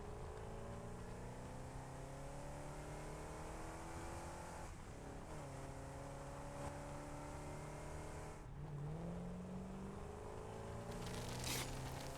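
A vehicle engine droning in the factory-building game Satisfactory, a continuous close hum with gear-like pitch climbs and shifts as it drives through a tunnel, no talk over it.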